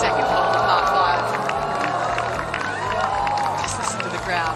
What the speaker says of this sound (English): Just listen to the crowd.